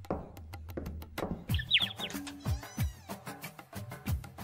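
Cartoon bird chirps in a quick run of short high tweets, alone and moderately clear, with soft tonal music-like tones underneath.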